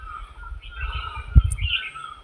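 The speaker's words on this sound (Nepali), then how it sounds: "चराको चिरबिर आवाज" Birds chirp in a jungle with scattered high calls over a low rumbling background, and a brief thump near the middle.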